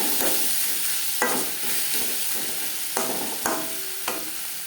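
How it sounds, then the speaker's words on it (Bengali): Onion, tomato, salt and turmeric are stirred together in a hot pan for a Bata fish curry, with a steady frying sizzle broken by several sharp spatula scrapes and knocks against the pan, close and fairly loud, no talking. "লবণ হলুদ পেঁয়াজ টমেটোর সাথে বেশ ভালো করে মিক্স করে দেবো।"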